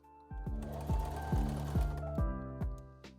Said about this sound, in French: on va venir coudre tout autour avec un point droit normal en laissant bien un espace pour pouvoir tout retourner